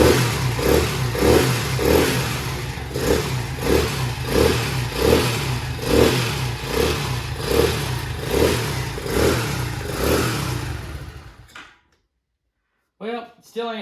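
A small 125cc engine on a Chinese CT70-style motorcycle with a poor idle revs in rhythmic pulses, rising and falling repeatedly, then shuts off abruptly; a voice speaks briefly afterward.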